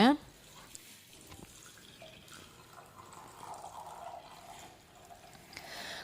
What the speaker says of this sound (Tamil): இப்போ நம்ம வேக வச்சு வச்சுருக்க அந்த கொள்ளு தண்ணி இருக்குதுல்ல அதை வந்து நம்ம சேர்த்துக்கலாங்க